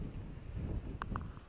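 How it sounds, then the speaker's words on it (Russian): Gusty wind buffets the microphone outdoors, a low uneven rumbling roar across the whole moment with a couple of faint higher tones. "Блин, ну ветер вообще."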